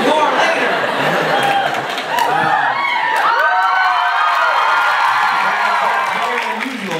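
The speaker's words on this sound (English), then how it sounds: "I've never had applause like that" Live show audience on a Tour de Nerdfighting stop in Vancouver, loud crowd chatter and cheering with scattered clapping and shouts, voices prominent throughout.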